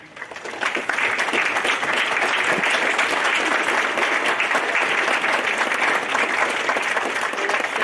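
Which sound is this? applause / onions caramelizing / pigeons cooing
applause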